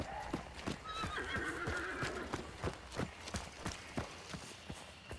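A horse in the video game Yakuza 0 whinnies loudly near the start while its hooves clop in a quick, even gallop throughout, close and prominent with no talk.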